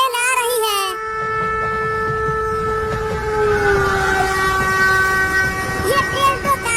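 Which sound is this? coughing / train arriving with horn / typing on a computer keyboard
train arriving with horn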